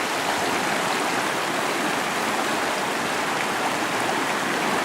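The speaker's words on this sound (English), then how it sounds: "there's a lot of snow melt off and it's springtime, so there's water in this" Springtime snowmelt water rushes down the usually dry fork of the Upper Elk River, a steady, dense broadband roar of flowing water that stays even and close throughout, with no voices.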